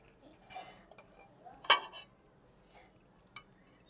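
Cooked biryani rice being served out of a pot, with a few soft scrapes and clinks of a serving utensil against the metal, one sharper knock in the middle, then quiet.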